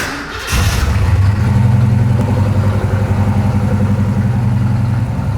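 A Ford Mustang engine cranks and catches after a brief pause, then settles into a loud, steady, rumbling idle up close with no talking over it.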